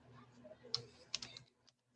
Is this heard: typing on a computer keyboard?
yes